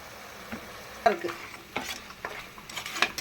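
Mutton sautéing with masala powder in a pan makes a brief, low sizzle under a few quick spoon scrapes and clicks, close by and without talk.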